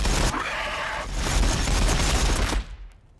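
Sustained loud automatic gunfire in a Warhammer 40,000 battle between Orks and Tyranids, a dense continuous volley of shots that cuts off and fades near the end, with no talking.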